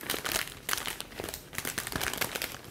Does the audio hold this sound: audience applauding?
no